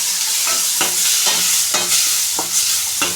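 Ridge gourd fry with tomatoes, green chillies and salt being stirred in a hot pan, a loud steady sizzle broken by a regular rhythm of spatula scrapes, roughly one every half second.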